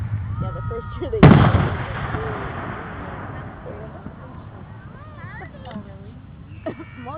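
Fireworks go off outdoors in Oregon: one loud, sharp blast with a rumbling tail, followed by quieter crackle, while several people talk throughout.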